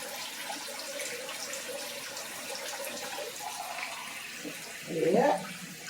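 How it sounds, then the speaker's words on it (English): Rice being rinsed under a running kitchen tap, a soft steady trickle and splash of water throughout, with a brief louder swirl near the end. "Wash the rice, wash the rice."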